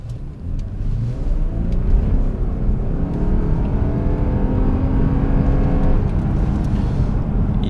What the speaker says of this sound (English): I'm gonna try and floor it for some seconds because this car is really quick